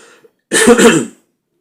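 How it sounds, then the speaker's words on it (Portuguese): A single sharp cough bursts out close to the mic, a rough throaty hack lasting about half a second, followed by silence. "Perdão pela tosse"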